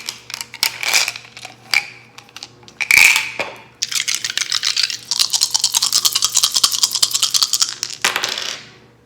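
Dice shaken and rolled during a pick-a-card reading: a sharp, close rattle of clicks that builds into a long, dense burst of rapid clattering, then stops abruptly.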